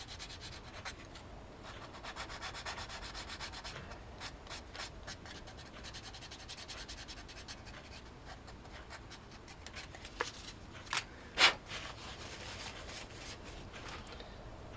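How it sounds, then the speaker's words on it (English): Sandpaper rubs lightly across the roof of a Hot Wheels Ferrari 308 GTB die-cast car, a quiet, steady scratchy scuffing close up, with a few sharper taps and scrapes near the end. "a little rub on the top there with the sandpaper"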